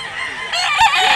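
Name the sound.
rooster at chicken market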